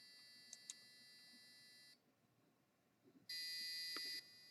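A passive buzzer driven by an Arduino sounds two shrill electronic beeps, one long tone and a later, louder one, with a quiet gap and faint knocks between them, close and alone.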